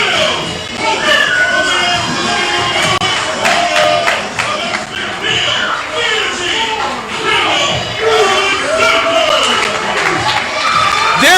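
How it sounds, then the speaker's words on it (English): At a Paulsboro pro wrestling show, an indoor crowd cheers and shouts continuously, with some clapping. A commentator talks over the noise. "there's Daniel Alexander bringing this Paulsboro crowd back to life"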